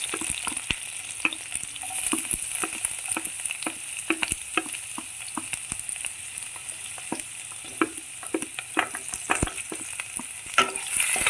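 Chopped garlic, ginger and green chili sautéing in hot oil for gobi manchurian, a steady close sizzle broken by frequent clicks and scrapes of stirring, with no talk over it.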